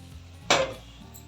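Mutton pieces tipped into a pan of fried onions, green chilli and spices for a kurma, giving one short loud sizzling clatter that fades within a few tenths of a second.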